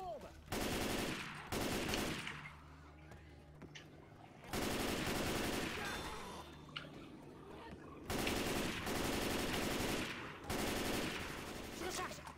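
Bursts of automatic gunfire from the Left 4 Dead 2 co-op zombie shooter, loud rapid volleys in several clusters separated by short gaps, with game ambience in between.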